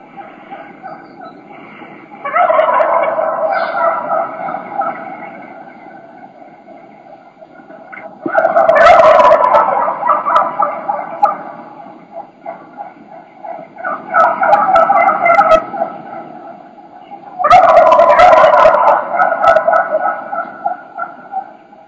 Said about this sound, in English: There's a bunch of hens and a bunch of gobblers in the tree.